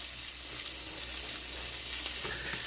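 Smoked beef sausages sizzle on a hot grill pan, a dense, bright, continuous frying hiss with faint crackles and a light stir or two, close by and without speech.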